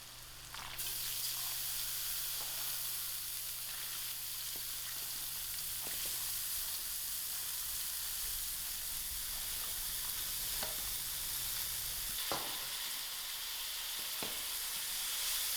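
Brown lentils (masoor dhal) for biryani dhal land in hot frying spices, setting off a steady broad sizzle with a few scraping stirs and clicks, close up, with no talking.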